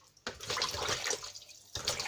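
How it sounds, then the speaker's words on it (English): Clean water runs and splashes while tilapia fish is rinsed, a steady hissing gush that starts abruptly, pauses briefly, and resumes. "Now you rinse thoroughly with clean water."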